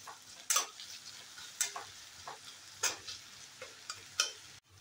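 Capsicum and onion frying in hot oil in a pan, a soft, steady sizzle broken by several sharp scraping stir strokes at irregular intervals.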